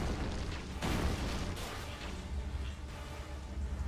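Continuous explosion blasts from a boss enemy in the video game Ninja Gaiden 2 Black, a rumbling series of booms with a sharp burst partway through, loud and dense throughout.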